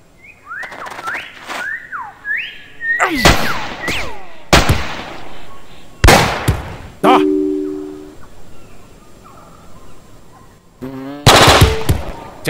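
Sharp gunshot bursts in the Jagged Alliance 2 tactical game, several loud separate blasts mixed with whistling game tones and clicks, close and isolated.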